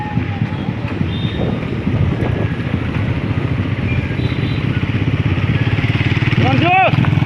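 A motorbike rides past runners in a village marathon, its engine drone buried under heavy wind buffeting and shouting voices, with a brief whine as it goes by near the end.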